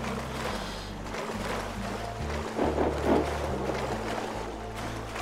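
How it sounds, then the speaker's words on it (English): Swimming through a river in the survival game Rust, a steady rush of churning water and splashing fills the clip, loud and continuous, with a brief surge of stronger splashes near the middle. "oh great, another river to swim."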